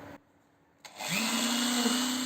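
A small hole of 3.5 mm is drilled in a tube for an M4 thread on an electric scooter upgrade. A short mechanical click gives way to a power drill spinning up and whining steadily at close range.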